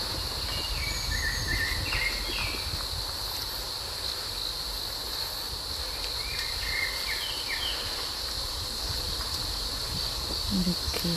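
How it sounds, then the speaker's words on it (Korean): Faint birdsong drifts in brief warbling phrases along a mountain trail, set against a constant high drone of insects and a low rumble of ambient noise. "새소리가 참 아름답죠"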